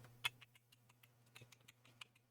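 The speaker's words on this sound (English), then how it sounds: "solenoid clicking on and off" A fuel injector solenoid on an engine thought to have injectors damaged by ethanol gas, clicking on and off in a quick, irregular string of faint, snappy ticks over a steady low hum.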